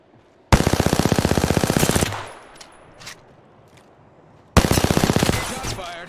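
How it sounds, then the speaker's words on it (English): Rapid automatic gunfire from an Apex Legends match: a loud sustained burst of about a second and a half, a lull with scattered faint shots, then a second long burst near the end. "Shots fired, and they're hitting me."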